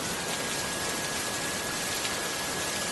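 Steady, dense downpour of heavy monsoon-style rain on a boat during a storm, a constant loud hiss with no pauses and no voices.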